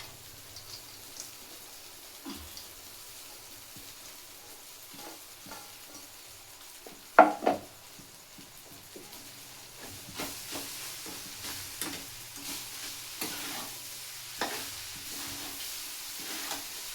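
Poha is stirred in a pan with fried onions, giving a soft, low sizzle with scattered spoon scrapes and a louder clatter midway, then busier stirring toward the end; no one speaks.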